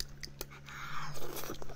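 Close-up chewing and biting into a giant lobster, with soft wet crunches and mouth noises in a brief burst, a low hum underneath.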